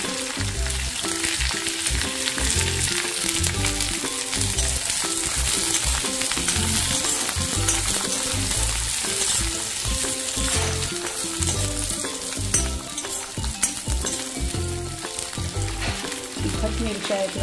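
Green chillies frying in hot oil, a dense, loud, continuous crackling sizzle that barely changes for the whole stretch, heard close with no voices.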